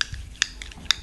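A few faint, crisp clicks spaced roughly half a second apart, a live radio foley imitation of a clock ticking, quiet and close against a soft background hiss.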